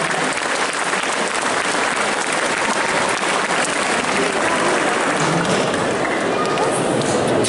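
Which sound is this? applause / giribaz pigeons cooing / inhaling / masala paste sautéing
applause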